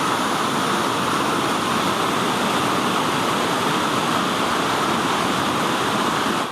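Steady rushing water from a spring-fed Ozark stream near its source, a constant broadband wash of sound with no pauses or voices.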